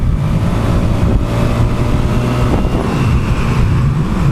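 A stock motorcycle engine and exhaust drone steadily and low while cruising, with heavy wind rushing over the microphone throughout.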